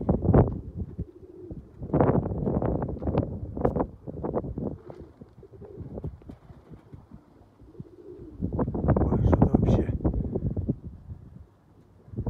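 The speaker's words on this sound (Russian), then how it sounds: "шуганулись, сыграли голуби" Russian Orlik highflyer pigeons flutter in strong wind outdoors, with bursts of wingbeats and rushing gusts that rise and fall across the clip, loud and close to the microphone.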